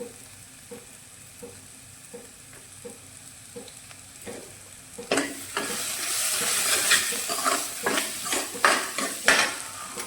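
Ginger garlic paste hits hot oil in a pan while making potato and wadi curry. Quiet scraping and stirring taps give way halfway to a louder rising sizzle, broken by repeated sharp clicks of a spoon against the pan.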